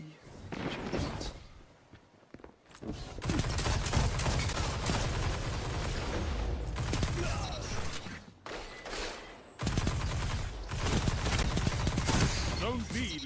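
Rapid gunfire from the Hardlight auto rifle rattles through a Destiny 2 Crucible match, in long dense bursts with short pauses, mixed with game effects and music.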